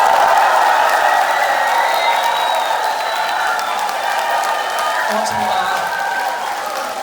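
Lecture audience at a happiness talk claps and cheers in a dense, continuous wave that slowly thins over several seconds, with a voice briefly speaking over it.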